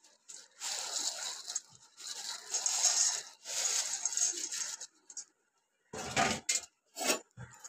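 Sitabhog sweets, made from semolina, being gently stirred into sugar syrup in a pan: soft intermittent scraping and rubbing strokes come in bursts with quiet gaps, then sharper clinks of utensil on pan near the end, fairly faint and close.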